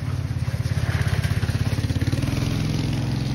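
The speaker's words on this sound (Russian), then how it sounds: "Так, сзади какой-то скутер едет." A scooter engine approaches from behind along a street, its steady motor chug close and loud throughout, with no voices over it.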